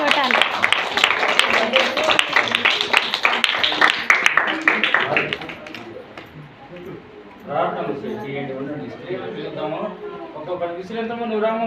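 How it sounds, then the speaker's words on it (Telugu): Audience clapping for a singer, a dense burst of applause filling the first few seconds before fading, then talk and crowd chatter take over. "అందరూ చప్పట్లు కొట్టాలి."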